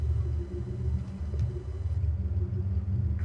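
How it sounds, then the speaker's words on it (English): Car engine in the video game Arma 3, a steady low rumbling idle or cruise that stays loud and constant with no talk over it. "That car sounds amazing."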